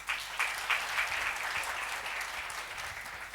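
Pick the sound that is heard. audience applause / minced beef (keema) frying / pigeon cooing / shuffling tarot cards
audience applause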